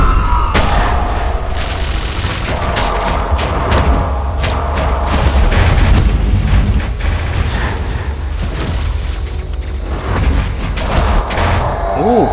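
Dense bursts of booming bomb blasts and crackling gunfire pile up continuously during a final boss fight in the video game Hyper Light Drifter, loud and chaotic, with mechanical clanks and a whooshing sound near the end.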